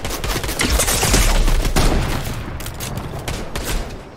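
Rapid bursts of gunfire in a Fortnite Zero Build solo match, dense overlapping shots and fusillade rolling loudly for several seconds before easing slightly.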